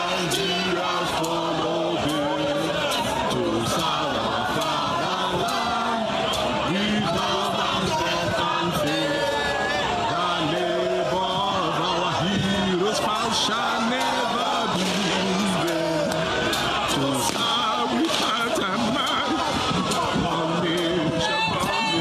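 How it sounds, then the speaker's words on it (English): A large crowd of demonstrators in Lagos, Nigeria, shouts and chants continuously at a steady high level, with dense overlapping voices and scattered sharp knocks throughout. "Video shared widely on social media shows security forces in Lagos firing directly into a crowd of demonstrators who were singing Nigeria's national anthem."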